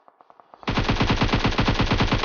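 Gunfire in PUBG Mobile: a quick burst of faint shots, then loud, rapid automatic fire rattling continuously at close range, no speech.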